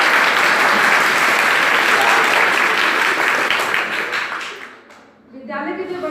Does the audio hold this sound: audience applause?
yes